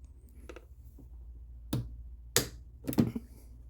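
Sharp snipping clicks from scissors cutting during a throttle cable adjustment on a 2001 Jaguar XK8, three distinct close cuts spaced about half a second apart over quiet background, with a few fainter ticks before them.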